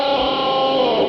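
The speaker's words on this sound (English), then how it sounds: "all you have to do is hit the vibrato bar by itself and it shakes and it causes that cricket type sound" Electric guitar struck on its body so the vibrato bar shakes, giving a steady, fluttering, cricket-like distorted tone that stays loud and even for about a second with no voice.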